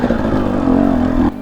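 A TE250i dirt bike riding forest single track in the Colorado Rockies: a loud, close, steady engine drone with a throbbing rhythm, easing off near the end.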